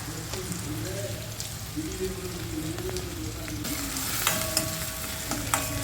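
Peas fry in hot oil for North Indian mutter paneer, a close crackling sizzle broken by scraping stirs and sharper spatters near the end, while a voice murmurs in the background.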